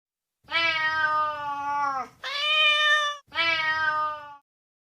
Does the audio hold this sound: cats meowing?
yes